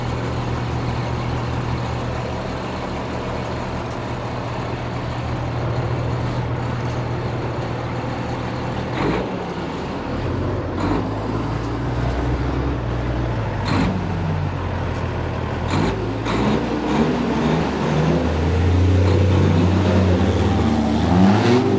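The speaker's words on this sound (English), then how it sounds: "A MAN truck close to a Tatra one." MAN and Tatra rally trucks at the start of the 2018 Morocco Desert Challenge rumble at idle, then rev hard with rising roars and throttle blips, loud and close over a constant background.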